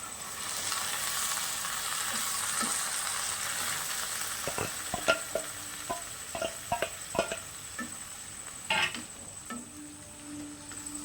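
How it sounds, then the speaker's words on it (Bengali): Boiled lentils go into a pan of frying masala for a dhaba-style egg tarka, a steady sizzle with a run of scraping and clattering ladle strokes partway through, no talk. "এবার তরকার ডাল সিদ্ধ করা সেটা দিয়ে দিচ্ছি"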